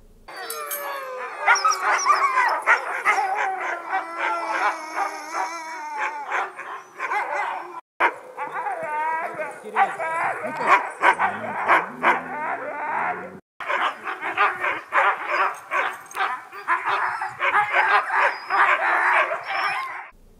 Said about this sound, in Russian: это наша самая первая собака, она у нас белого цвета